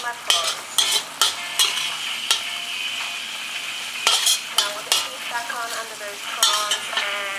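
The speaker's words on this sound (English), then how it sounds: "Always make sure the soy sauce touches the wok so it caramelizes and become even more" Noodles stir-fried with soy sauce in a hot wok, a steady sizzle broken by repeated sharp metallic scrapes and clanks of the utensil against the pan, close and fairly loud, with no talking.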